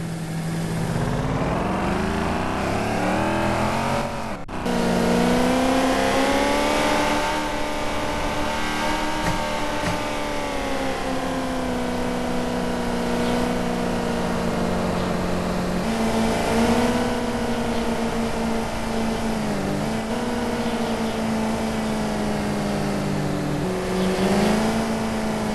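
A 2020 Jeep Grand Cherokee in the Taxi Sim 2020 driving game, its synthesized engine droning steadily with rising and falling revs throughout, close and continuous, with a brief dip near the start.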